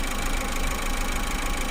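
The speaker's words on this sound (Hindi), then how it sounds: "इससे पता लगा सकते हैं कि ये इंजन चल रहा है" A Maruti Suzuki Eeco engine idles just after an overhaul, giving a dense, even mechanical thrum with a fine rapid knocking texture, close and loud for the whole short stretch with no talk.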